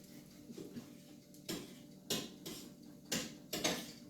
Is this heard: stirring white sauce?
yes